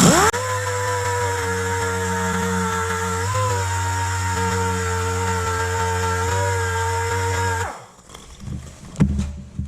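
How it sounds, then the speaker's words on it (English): Loud, steady whine of a dual-action sander with 80-grit paper running against a C1 Corvette metal frame for several seconds, then winding down and stopping, followed by faint clatter. "Just want to get good metal to weld to, so I have 80 on my DA."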